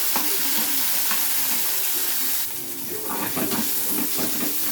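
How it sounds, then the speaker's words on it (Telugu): Green chillies and brinjal pieces frying in oil in a home kitchen, a loud continuous hissing sizzle with brief stirring scrapes, dipping slightly midway then resuming, no talking. "కొంచెం నూనె పోసుకొని పచ్చిమిర్చి వేసుకున్నాం. కొంచెం కలుపుకున్న తర్వాత వంకాయ ముక్కలు కూడా వేసుకున్నాం"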